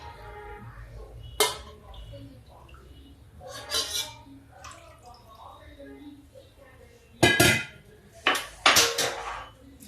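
Two cups of milk go into a pot on a gas stove. Sharp metallic clinks and scrapes of cookware come in bursts, with longer pouring and clattering runs near the end and a voice talking in between.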